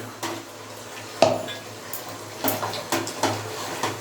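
Spoon scraping and clinking against a cooking pot as thick gravy is stirred by hand, a handful of sharp knocks spaced irregularly among softer scraping, close by and with no talking.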